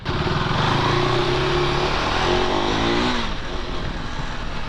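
Engine of a 2025 KTM Adventure 390X motorcycle on a test ride, a steady loud drone with rising and falling pitch as the throttle opens and eases, close and continuous with no talking.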